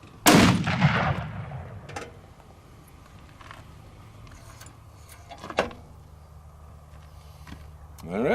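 A single sharp, loud rifle shot from a 300 Win Mag Accuracy International Mk13 sniper rifle with a Vortex scope cracks at the start and decays over about a second, followed by faint clicks and handling noises.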